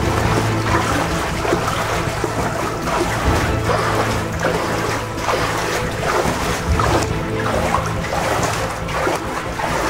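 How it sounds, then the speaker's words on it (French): Steady broadband rush of water filling an inflatable boat in a flooded tunnel, with wind-buffeted splashing, loud and close, continuous throughout with no pauses. "Le bateau est en train de se remplir d'eau."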